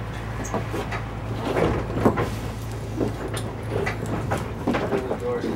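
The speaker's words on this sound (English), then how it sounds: "The door's closed" A vehicle door slides shut on a film set, a soft rolling thud over a steady low engine hum, with people talking nearby.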